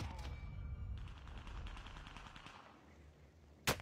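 Rapid bursts of gunfire from an online shooter video game, a sniper picking the player off from across the map, with a busy spread of shots and a sharp loud crack near the end; no speech.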